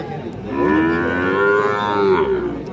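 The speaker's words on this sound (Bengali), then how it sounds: "এইটা একটা বকনা বাছুর দর্শক" A Sahiwal heifer calf at a livestock market lets out one long, loud moo close by, rising and holding steady for about two seconds before fading, with no talk over it.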